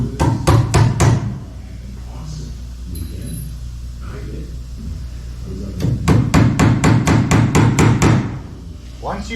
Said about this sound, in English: Don't hammer the nails all the way in because you are going to want to pull them out afterwards.